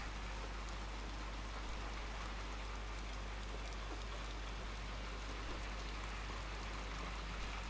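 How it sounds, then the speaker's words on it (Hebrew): Steady rain in the video game Little Nightmares II, a dense, even hiss of falling drops that holds constant from start to finish with no voices over it. "פעם גשם, עוד פעם גשם."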